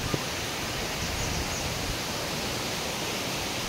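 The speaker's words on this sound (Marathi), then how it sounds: "आणि हा राहिला तो धबधबा, एकदम निसर्गामधून खाली असा वाहत जात आहे." A waterfall pours down over rocks in the hills, a steady, dense roar of rushing water heard alone at constant strength.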